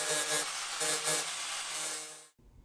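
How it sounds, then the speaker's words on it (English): A carbon fiber repair on the cracked bottom of a canoe slalom boat is hand-sanded up close in quick rhythmic scraping strokes that stop abruptly just before the end. "Then, finish sanding."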